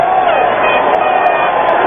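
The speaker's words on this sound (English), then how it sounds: "And the crowd greets Browning Nagel" A steady, dense stadium crowd roar fills a 1991 NFL game between the San Diego Chargers and the New York Jets as fans greet quarterback Browning Nagel. The noise is loud and continuous, with an announcer's voice likely underneath.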